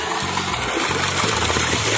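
Water from a pump pours out in a steady, close, full rushing flow, with a low gurgling churn underneath.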